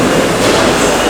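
A train rumbles loud and close through a large subway station in Woodside, a steady roaring rush of wheels and cars with no pauses over the brief stretch.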